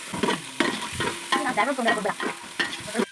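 Green chillies frying in a pan for chicken biryani, a close sizzle broken up by repeated scraping stirs of a spoon against the pan in an uneven rhythm.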